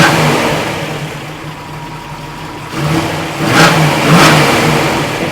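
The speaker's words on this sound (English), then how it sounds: "Yeah, PJ, get up there where they can hear the engine." A 1970 Camaro Z/28 Rally Sport V8 with solid lifters, idling loud and close, then blipped twice in quick rising revs that fall back to a lumpy steady idle.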